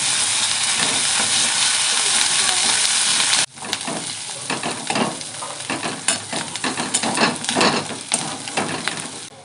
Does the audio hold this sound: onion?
yes